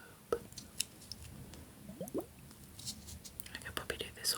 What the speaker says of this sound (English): The ice globe, blue glitter ice globe,